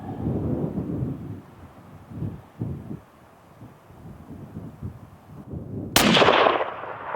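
A rifle shot on a hunting range at 300 yards bursts out loud and sharp near the end, following several seconds of low rumbling background noise.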